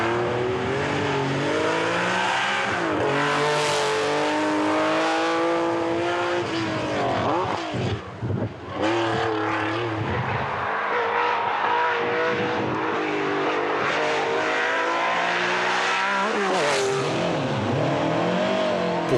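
Classic race cars, a Porsche 911 RSR 2.8-litre and an Alpine A110, race in the Tour Auto 2006 with loud engine wails rising and falling through gear changes, and the cars sweep past close by, one after another.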